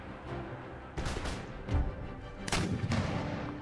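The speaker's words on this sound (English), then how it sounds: "our shrapnel shot is just blowing holes in every formation" Cannon crews fire shrapnel shot in an Empire Total War battle, with several booming blasts spread over a few seconds, each followed by a rumbling tail, loud and with no speech.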